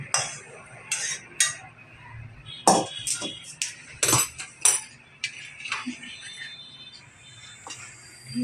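Carom seeds stirred together with sesame seeds in a bowl for mukhwas, a spoon clinking and scraping in quick, irregular close-up knocks with short pauses.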